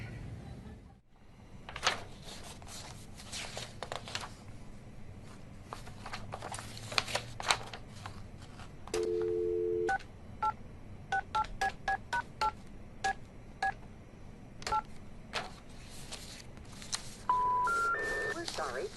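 Touch-tone beeps from a telephone keypad as a number is dialed, a brief low pair of tones followed by a quick run of short, evenly spaced bleeps and then a louder closing tone pair, with faint speech and rustling underneath.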